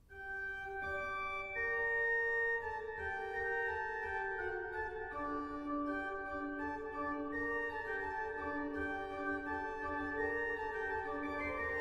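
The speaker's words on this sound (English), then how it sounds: "By and large, a fugue sounds like this" Instrumental fugue: a single melodic subject enters and moves alone, then other lines join in counterpoint, played smoothly at moderate volume with no voices.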